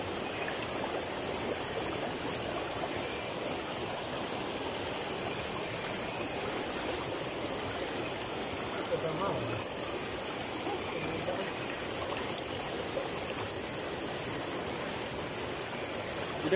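A strong river current rushes steadily, a broad and even wash of flowing water that is fairly close and continuous throughout, with no pause or change.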